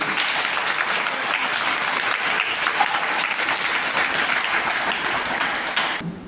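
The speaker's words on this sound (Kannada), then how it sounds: "ನಮ್ಮ ಶ್ರೀ ಎಸ್ ವಿ ಜವಳಿ ಗುರುಗಳು ಅನ್ನುವಂಥದ್ದನ್ನು ತಾವು ಚಪ್ಪಾಳೆ ಮೂಲಕ ವಿಚಾರಿಸಿ." An audience at a school and college function in Hubballi claps steadily and loudly for about six seconds, a dense continuous applause that cuts off abruptly at the end, with no talking.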